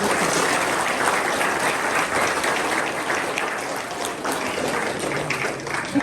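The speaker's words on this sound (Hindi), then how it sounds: "आप जोरदार तालियों से सारे स्टाफ का स्वागत करें।" Loud, dense applause from a school audience welcoming the staff at a Republic Day celebration, sustained for several seconds without a break.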